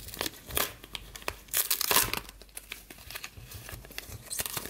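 A paper surprise envelope is torn open by hand, giving close, irregular crinkling and tearing rustles in quick bursts with no talking.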